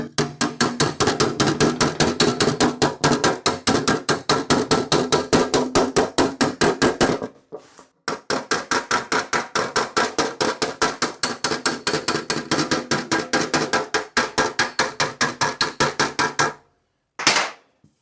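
A hammer taps down small lumps in a metal kit car body panel: fast, sharp, close metallic blows in long steady runs, a brief pause midway and a short final burst.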